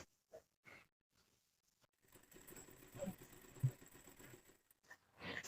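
A sewing machine runs a short burst while stitching a hem strip onto a blouse, a low mechanical rattle starting after a few quiet taps and handling sounds, close and moderately soft.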